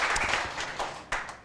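Brief applause at a panel discussion on life during the pandemic, a short burst of scattered claps with a few sharper hits, fairly close.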